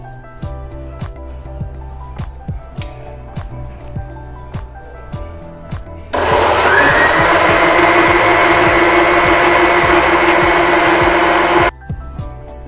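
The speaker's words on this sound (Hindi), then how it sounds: "साथ ही ऐड कर दूंगी वाटर और इसे ब्लेंड कर लेंगे।" A kitchen blender starts partway through and runs loud and steady for about six seconds, blending a chikoo (sapodilla) milkshake with water, after a stretch of quieter clicks and handling.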